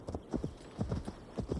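A horse's hooves clip-clop at a walking pace in the video game Assassin's Creed Valhalla, a quiet, even rhythm of soft thuds with no talk.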